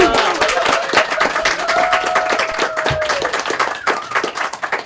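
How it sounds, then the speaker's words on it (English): A room full of people claps steadily, a dense patter of applause that thins out toward the end. "Can we give one more round of applause?"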